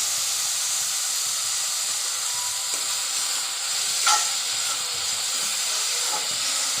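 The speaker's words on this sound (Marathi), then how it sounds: "तेल गरम झाल्यामुळे कांदा लगेच लालसर होत आहे" Onion with salt frying in hot oil for a breakfast bhurji pav, giving a steady loud hiss and sizzle throughout with a brief crackle near the middle and no voices.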